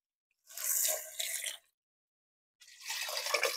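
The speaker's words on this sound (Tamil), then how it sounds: "கறி வேகுற அளவுக்கு தண்ணி சேர்த்துக்கலாங்க." Water pours in two bursts separated by a short pause, a splashing, hissing stream into a cooking pot of chicken curry, close and fairly loud.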